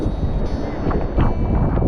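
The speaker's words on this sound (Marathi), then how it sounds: "आता वारा सुटलाय जोरदार" Strong wind roars into the microphone on a flooded bridge over a swollen river during torrential Konkan rain, a steady loud rumbling buffet with no pauses.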